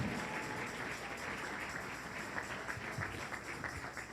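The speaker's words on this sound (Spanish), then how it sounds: "Puede sentarse y puede celebrar al Señor unos 10 segundos con esas palmas." A church congregation claps their hands in a steady, dense wash of applause lasting several seconds, with no voices rising above it.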